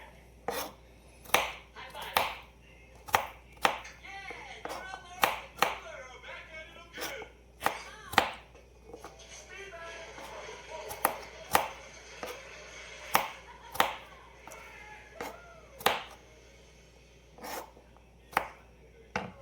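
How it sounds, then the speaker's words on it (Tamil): Coconut being chopped into small pieces for an egg masala, a steady series of sharp knife strikes on a board, close and distinct, with faint background noise between the cuts. "இது தேங்காய் சின்னதாக கட் பண்ணி"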